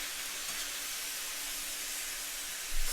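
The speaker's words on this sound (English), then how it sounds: "Let's go ahead and cut our heat. And we're just going to" Shrimp stir fry hissing steadily in a hot pan, a broad even sizzle held the whole time with a slight scrape near the end.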